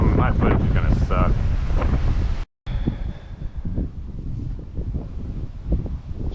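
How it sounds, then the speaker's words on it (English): Strong gusty wind buffets the microphone outdoors during concrete work, a loud rumbling roar in the first half, then after a brief cut-out a lower steady blustering continues with soft thumps. "But it's so windy."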